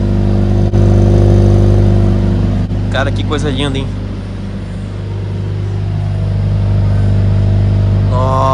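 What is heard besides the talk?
Mercedes-Benz CLA 45 S AMG exhaust revving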